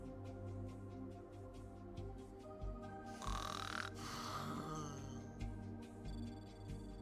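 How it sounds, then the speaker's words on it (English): A sleeping beagle in a video game snores in slow repeated breaths, with a louder snort-like burst in the middle over a soft music bed. "The snoring sleepy beagles walking around may seem harmless, but his mid-sleep hunger has a side which borders the terrifying."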